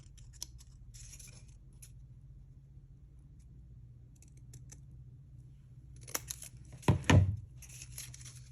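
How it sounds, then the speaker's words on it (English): Scissors trim paper for the spine of a Christmas botanical junk journal, a few faint snips early on, then a sharper, louder cut near the end against a quiet room. "A tiny bit too big right up there, so I'm going to trim that."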